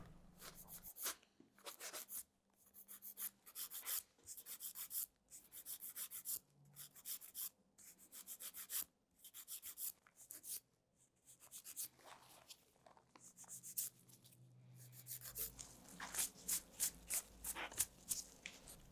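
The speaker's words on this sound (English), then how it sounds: "I then use my emery board and file the toenails so there are no sharp edges." An emery board filing short toenails on a foot during a pedicure, a steady run of soft, close rasping strokes in a regular back-and-forth rhythm, growing quicker and brighter toward the end, with no talking.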